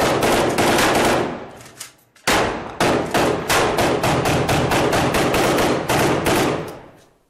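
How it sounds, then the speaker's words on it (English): Sustained automatic weapon fire from a firefight with Islamic State fighters in Mosul: loud, close bursts of rapid shots that pause briefly, then resume in a steady rattling stream with a few short breaks. "But he keeps firing."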